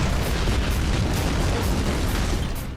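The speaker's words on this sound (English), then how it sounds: "Big explosions seem to be a general theme in the Ballad of Gay Tony." A big explosion in Grand Theft Auto: The Ballad of Gay Tony, a dense, sustained roar of blasts and rumbling booms filling the whole stretch at loud level, with no voices.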